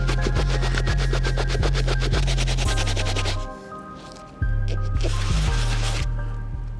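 A soft bristle brush scrubs suds into the uppers of a worn Air Jordan 11 Concord sneaker, making quick, rhythmic wet squishing strokes up close. The strokes break off briefly midway, then resume.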